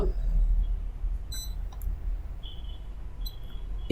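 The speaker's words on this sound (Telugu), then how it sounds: "M1 అన్నది లాక్ అయిపోయింది, అంటే బీప్ సౌండ్ వస్తుంది." Short high-pitched electronic beeps from a DC bench power supply locking its current setting, a few scattered chirps and one longer tone, over a steady low background hum.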